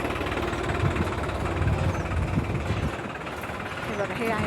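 A tractor engine runs steadily during potato sowing in a field, a continuous close rumble with people talking over it throughout.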